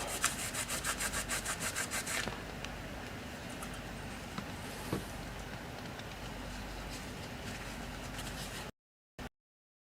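Steady close scrubbing and rubbing on the metal base of a CPU cooler during a repair of a PC with a 3900X processor and 6900 XT graphics card, with rapid rhythmic strokes early on, then a continuous gritty friction that cuts off near the end.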